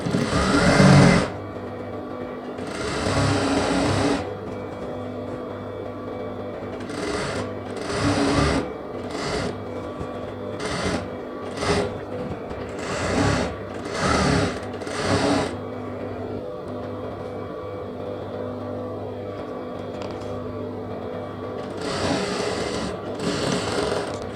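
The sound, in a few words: sewing machine stitching pant leg seam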